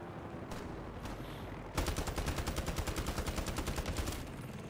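Rapid automatic gunfire in the Modern Warfare III campaign's Highrise open combat mission, a dense fast rhythmic burst of shots starting abruptly after a quieter stretch and continuing loud for several seconds.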